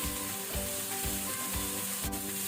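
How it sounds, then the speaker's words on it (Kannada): Tomatoes frying for pav bhaji, a steady close sizzle broken by regular stirring strokes about every half second, with no one speaking. "ಈಗ ಟೊಮ್ಯಾಟೊ ಹಾಕೊಳ್ಳುವ. ಇದನ್ನು ಸಹ ನಾವು ಸ್ವಲ್ಪ ಫ್ರೈ ಮಾಡಬೇಕು."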